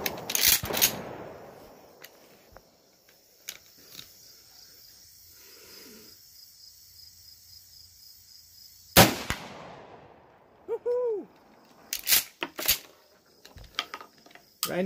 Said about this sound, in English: So now we're running the Winchester 3-inch 1-ounce slugs on the target on the left.